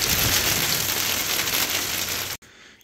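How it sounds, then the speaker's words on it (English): Hail falls outside beside a greenhouse in the cold, a dense, loud, continuous patter of stones hitting the surfaces nearby that cuts off abruptly near the end. "It's just hailing."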